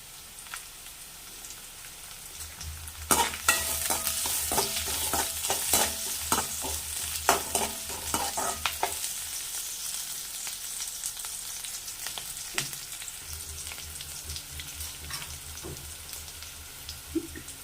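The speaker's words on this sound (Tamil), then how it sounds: "வெங்காயம் பொன்னிறமானோடனே வெள்ளைப்பூடு தட்டி வச்சுருக்கேன், அதை போட்டுக்கலாம்" Onions and crushed garlic fry in a pan, a steady close sizzle with repeated sharp scraping and stirring clicks, loud bursts around the middle and no voices.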